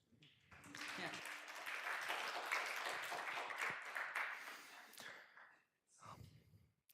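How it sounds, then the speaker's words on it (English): A modest meeting audience claps for a board in a short, uneven burst lasting a few seconds, fading out, followed by a brief pause and a small sound near the end. "but clap for the board."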